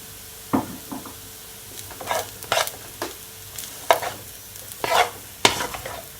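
Hibachi steak and shrimp sizzle on a hot griddle with spring onions, with a soft constant fry broken by repeated sharp scrapes and taps of a utensil stirring the food, close and without talk.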